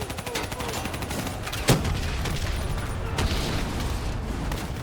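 Gunfire aimed at a VTOL aircraft in the video game Call of Duty: Black Ops III, heard as a steady battle din of rapid shots with one sharp crack near the middle, fairly quiet and unbroken, with voices faint underneath.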